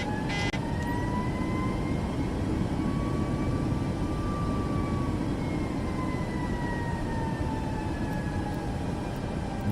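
An airliner in Microsoft Flight Simulator spools up on the runway for takeoff, a steady loud engine roar with rising and falling whining tones held throughout, with no talk over it.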